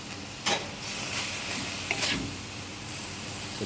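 Minced pork with holy basil stir-fries in oil in a wok, a steady close sizzle broken by a few sharp scraping stirs of the spatula.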